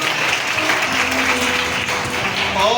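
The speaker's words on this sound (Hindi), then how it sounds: "जोरदार ताली बजा दो आपने।" An audience at a Hindu Shrimad Bhagavat Katha religious discourse claps steadily and fairly loudly, a dense continuous patter that lasts throughout.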